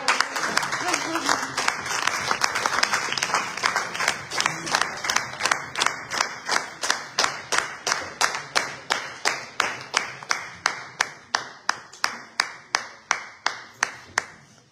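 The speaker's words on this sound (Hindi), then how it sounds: "ताली बजाते रहो।" An audience claps in unison at an indoor motivational talk, starting as a dense burst of applause and settling into slow, evenly spaced rhythmic claps that carry on without a break.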